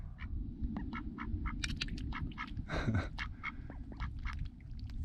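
A duck quacking at Black Butte Lake, with repeated short quacks over steady low wind and water noise, one louder raspy call standing out midway through.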